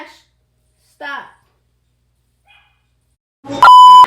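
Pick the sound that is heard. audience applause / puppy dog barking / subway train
puppy dog barking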